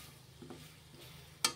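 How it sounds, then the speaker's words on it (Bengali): A spoon stirs melting jaggery in a wok for amla pickle, making soft, faint scraping and a light sizzle, ending with one sharper scrape. "এবার একটু নাড়াচাড়া করে নিচ্ছি।"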